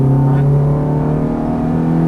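Ferrari F430 on the Exotics Racing track in Las Vegas, its engine holding a loud, steady harmonic drone close by under acceleration, with no talking.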